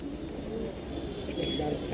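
Pigeons in a loft keep up a soft, continuous murmur of cooing, with a noisy, indistinct voice-like background throughout.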